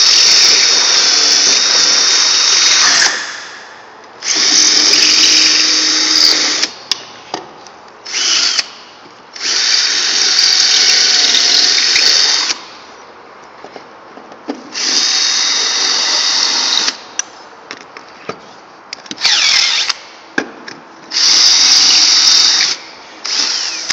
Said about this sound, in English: I will continue this procedure till I get all my holes drilled.